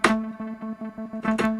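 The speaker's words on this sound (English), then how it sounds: "we've got the TD3, which is being sent out to a shitload of reverb and delay" A TD3 synth line pulses in a steady, rhythmic run of distorted notes drenched in heavy reverb and delay, loud and alone, with the echoing tails smearing each hit into the next.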